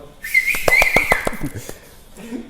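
A person whistles a short run of bright notes, fairly close, with a brief pause before a quieter tail at the end.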